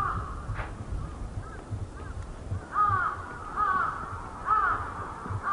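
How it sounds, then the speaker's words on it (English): Distant crows caw in a few spaced bursts over a low, steady background rumble, with no other prominent sounds, at the tsunami-ruined port of Kesennuma, Japan. "The cries of distant crows, the loudest noise that you can hear."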